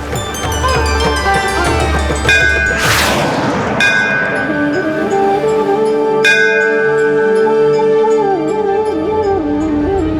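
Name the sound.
temple bell ringing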